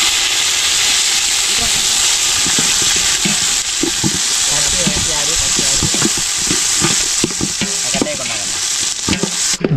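Onions and tomatoes fry in a pan over a wood fire while kootanchoru is being cooked. A loud, steady sizzle runs throughout, with intermittent stirring scrapes and clinks.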